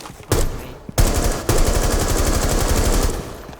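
Rapid automatic gunfire in Rainbow Six Siege Shadow Legacy, loud and close, with a short opening burst, a brief gap, then a long sustained stream of shots that cuts off near the end.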